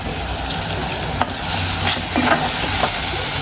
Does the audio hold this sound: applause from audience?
no